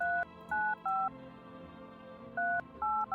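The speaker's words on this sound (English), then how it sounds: "I'm gonna use the phone." Touch-tone telephone dialing in a video game: six short two-tone DTMF beeps, three in quick succession, a pause, then three more, clear over a faint background hum.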